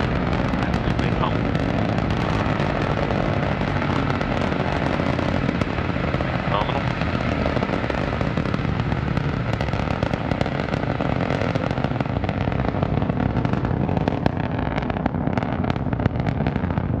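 A steady, dense, crackling roar from the first stage engine of an Antares rocket during launch, loud and continuous throughout, with a voice speaking over it.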